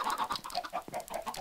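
Chickens in a Minecraft farm cluck in a quick, uneven run of short game-style calls, close and moderately loud, with no talk over them.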